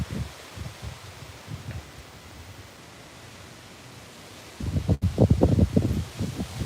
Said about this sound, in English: you can see the wind's blowing